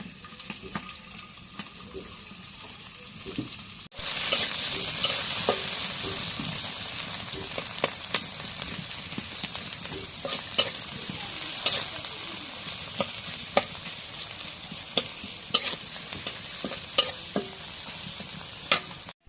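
Green chilli pieces hit hot oil in a pan and sizzle loudly after a quiet start, the steady crackling broken by repeated clinks and scrapes of a stirring spoon.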